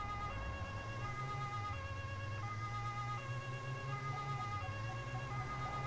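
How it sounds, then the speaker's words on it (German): A loud police siren from the Autobahn police simulator game blares continuously, alternating between two pitched tones over a low rumbling engine hum. "So, Blaulicht, Martinshorn und dann geht's los."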